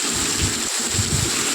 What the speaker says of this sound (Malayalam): ഞാൻ രാത്രി തുടങ്ങിയ മഴയാണ്, ഇതുവരെ തോന്നത്തില്ല. ഇപ്പോഴും പെയ്തുകൊണ്ടിരിക്കുകയാണ്.